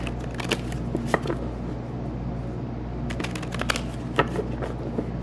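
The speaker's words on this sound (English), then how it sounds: "let's grab the old vintage tarot, give it a good ruffle shuffle" Vintage tarot cards are riffle shuffled twice, each a quick crisp burst of flicking, separated by brief pauses.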